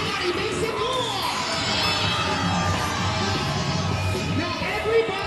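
Live audience at a Las Vegas event cheering and yelling, a steady loud crowd roar with scattered shouts throughout.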